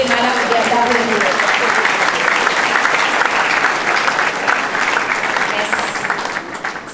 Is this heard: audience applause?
yes